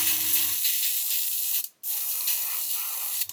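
Airbrush spraying VMS No Peel water-based primer through a small nozzle, a steady close hiss that cuts out briefly for a moment before resuming, then stops again near the end.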